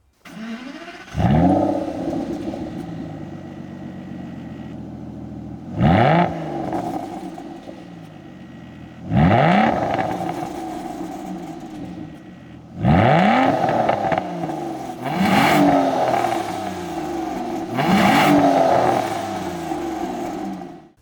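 Aston Martin DBS with its 6-liter V12 revving at a standstill: five or six sharp, loud blips that rise and fall, separated by a steady idle burble, no talk.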